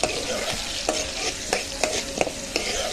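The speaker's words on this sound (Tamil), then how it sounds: "சின்ன வெங்காயம் போட்டு நல்லா வதக்கணும்." Small onions sauté in a pan for a prawn curry: a soft continuous sizzle broken by a regular series of scraping spatula strokes, close by, with no voices.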